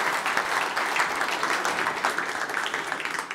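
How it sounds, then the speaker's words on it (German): Audience applause at a panel discussion on federalism, a steady wash of many hands clapping throughout, moderately loud, with no talk over it. "Ich bitte um Applaus."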